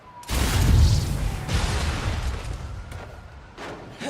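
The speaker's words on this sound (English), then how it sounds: "Opening fire." Gunfire in the video game Marvel's Spider-Man Miles Morales, a loud burst of shots blending into a rumbling roar, followed by a few sharper cracks and a short pause.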